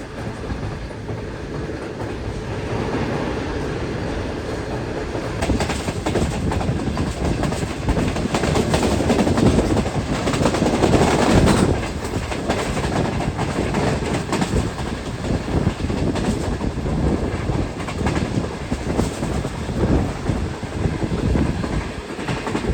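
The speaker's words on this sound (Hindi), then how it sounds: "काफ़ी अच्छी स्पीड में ट्रेन ने स्किप किया" Shah Hussain Express train rushing through Sher Shah Junction station near Multan at speed, a loud continuous rumble with rhythmic clickety-clack of wheels on rail joints, swelling in intensity midway and staying dense throughout, no voices.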